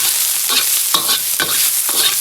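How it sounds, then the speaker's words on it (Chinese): Scallion, ginger and garlic stir-fried in hot lard, a loud continuous sizzle broken by several rhythmic scrapes and tosses of the wok, close up with no talking. "葱姜蒜爆香"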